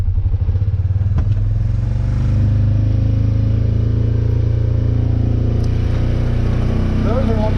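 A dirt bike engine runs steadily on a wooded trail, a loud, close, continuous drone with a rattling low throb, while people talk over it.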